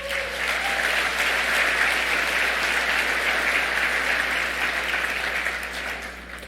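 Steady, dense clapping from an audience at the 2019 USBC Convention annual meeting carries throughout, sustained and fairly loud before easing slightly at the close.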